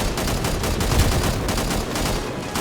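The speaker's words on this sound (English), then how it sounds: "Just crazy on a fucking machine gun like this." Sustained automatic fire from a machine gun in the video game Angels Fall First, a dense, rapid rattle of shots running continuously at close range and loud throughout, with no talk over it.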